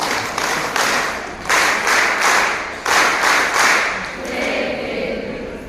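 Audience applause at an ASHA health workers' check-up camp in Junnar, with steady bursts of clapping from a crowd swelling and easing in waves, continuing without speech and thinning toward the end.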